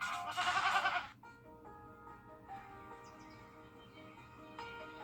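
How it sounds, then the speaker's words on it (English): Goats bleat loudly in a TV advert for an injury law firm: a burst of overlapping, wavering bleats up close for about a second, then a quieter background of music-like tones. "What's with all the goats?"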